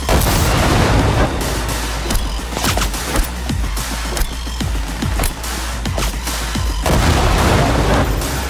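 A grenade goes off amid a firefight in Cyberpunk 2077, with a loud blast at the start and sharp gunfire cracks and booms repeating over sustained rumbling combat noise.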